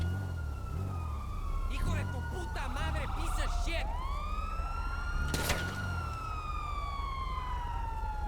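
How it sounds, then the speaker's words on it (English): A police car siren wails and sweeps up and down in a video game, mixed with engine rumble and other game sounds, with a brief sharp crash near the middle. "there's a police car coming up over there"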